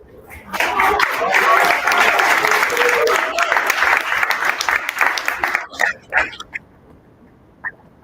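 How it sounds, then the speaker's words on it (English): Showcase audience applauds for several seconds in a dense wash of clapping that thins into a few scattered claps, with voices and a whoop in the mix before it falls nearly silent. "Another round of applause for Taisha."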